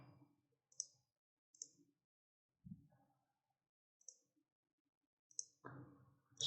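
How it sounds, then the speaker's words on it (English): A computer mouse clicks in CAD software while a microfluidic chip is being designed: a handful of sharp, isolated clicks spaced a second or more apart in a quiet room, with a few soft low thumps between them. "Click OK, and then click on this, create a surface"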